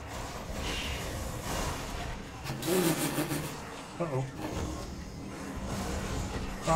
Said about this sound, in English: Ah, stop spinning the car around.